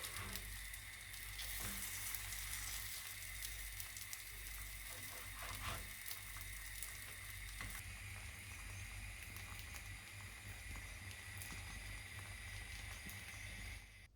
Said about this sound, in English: Then turn each crepe over in the butter to reheat the other side.